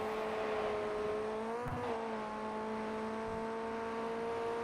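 A Ray FF1600 Formula Ford race car in iRacing at Lime Rock Park drones steadily close-up, its engine note dipping briefly as the throttle lifts and then rising again under power.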